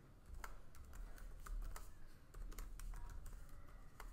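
Rapid, irregular clicking of keys on a computer keyboard as text is typed, steady and fairly close with no one speaking.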